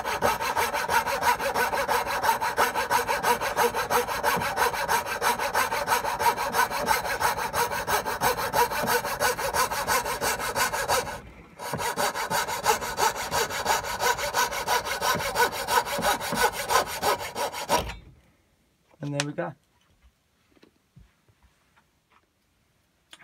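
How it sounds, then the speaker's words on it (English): A hand saw cuts a curve in wood with fast, even back-and-forth strokes. A brief pause comes partway through, then the strokes resume and stop, followed by a few light knocks and quiet. "Okay, so I've just started this cut, and it's the same process, just to cut the curve."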